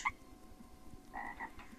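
A frog in the video game Dark Riddle gives short croaks, one at the start and a pair a second later, moderately close over a low background hum.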